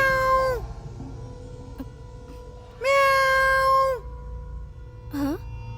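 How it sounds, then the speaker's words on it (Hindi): A cat meows loudly and close by in three drawn-out cries with pauses between them, set against a low background hum. "हाँ? बिल्ली है क्या?"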